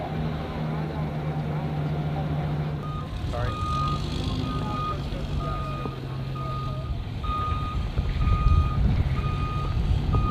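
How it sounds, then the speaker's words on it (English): Vehicle towing a bomb trailer toward a B-52 aircraft on the flight line, a steady engine drone under repeated high reversing beeps, with a narrator talking over it. "the crew puts it on a trailer attached to a vehicle, which transports it toward the aircraft"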